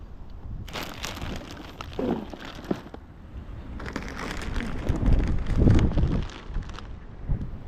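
Strong, gusty wind buffets the microphone outdoors in the USA, swelling in rough bursts and easing briefly between gusts.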